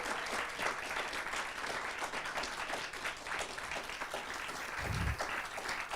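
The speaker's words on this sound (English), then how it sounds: "Should we give a round of applause to our filmmakers," An audience at an animation short film festival screening applauds the filmmakers, steady dense clapping from a full room that keeps going throughout without a break.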